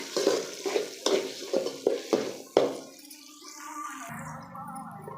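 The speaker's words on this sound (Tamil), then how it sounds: "வெங்காயம், வெங்காயம் நல்லா வதக்கிக்கலாம் ஃப்ரெண்ட்ஸ்." Onions sautéing in a pan, a spoon scraping and stirring in quick rhythmic strokes with a soft sizzle underneath, then settling into a steadier, quieter fry.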